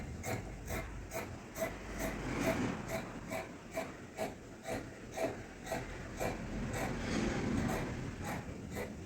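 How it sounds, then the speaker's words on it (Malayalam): Scissors cut kurti fabric along a marked line with a steady, repeated snipping rasp, roughly two crisp cuts per second, close and fairly loud throughout, with no voices. "എന്നിട്ട് നമുക്ക് ഇതിൻ്റെ ഈ ഒരു സൈഡിലൂടെ ഒന്ന് മാർക്കിങ്ങിലൂടെയൊക്കെ ഒന്ന് കട്ട് ചെയ്തെടുക്കാം."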